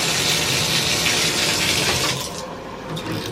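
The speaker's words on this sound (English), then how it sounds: "Let's turn on some water." Water rushing from a Newentor stainless steel handheld shower head, a loud, steady close hiss of spray that softens slightly toward the end, with no voices.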